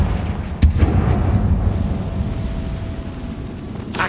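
A fiery spell explosion in Hogwarts Legacy bursts with one sharp blast, followed by a deep rumbling boom that lingers and slowly fades, with a second crack near the end.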